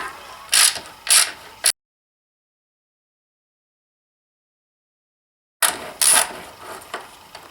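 Ratchet wrench clicking as engine mount bolts are loosened on a Suzuki RF 900 motorcycle: two short, close bursts of rapid ratcheting, a long stretch of silence, then more quick ratchet strokes.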